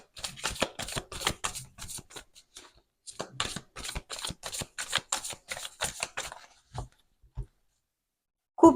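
Modern Love tarot cards are shuffled by hand up close, giving bursts of crisp riffling and slapping that come in quick repeated runs with short pauses, then a few isolated taps before a sudden final knock.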